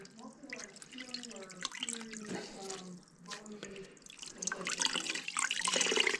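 Water drips and splashes as wet muskrat pelts, soaked in salt-water pickle, are wrung out close by, with trickling and pattering under a man's speech.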